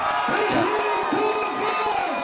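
A rugby crowd cheering at Jerry Collins Stadium after a Jubilee Cup final, a dense roar of shouts and whoops that carries steadily throughout, with voices rising above the mass.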